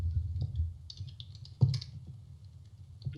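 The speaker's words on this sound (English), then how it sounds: "Oh, you're just typing your keyboard." Typing on a computer keyboard, a close run of light, irregular key clicks with one louder tap, over a soft low hum in a quiet room.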